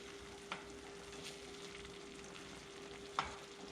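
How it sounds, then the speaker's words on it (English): Shrimp sauté in butter in a pan, giving a quiet, steady sizzle with a faint hum underneath and two short clacks of the shrimp being turned. "My butter saute is covering about half of the shrimp."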